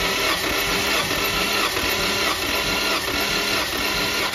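A 2002 Nissan Primera with a 2-litre engine cranks on the starter during a compression test, a steady rhythmic churning with regular pulses, close and fairly loud with no talking.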